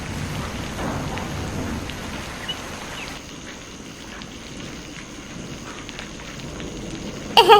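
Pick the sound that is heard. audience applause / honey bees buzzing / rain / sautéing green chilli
rain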